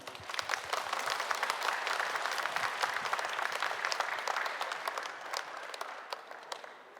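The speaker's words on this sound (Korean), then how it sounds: "이성 교수님을 큰 박수로 여러분 맞아주시죠" Audience applause welcomes a neurosurgery professor onto the stage at a live public radio broadcast celebrating a health show's 10th anniversary: dense, sustained clapping from a studio crowd that holds steady, then thins slightly toward the end.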